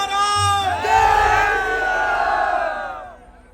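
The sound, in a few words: crowd applause and cheering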